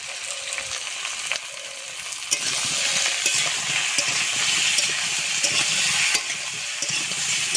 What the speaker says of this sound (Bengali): লাউটা সুন্দর করে ভাজা হয়েছে,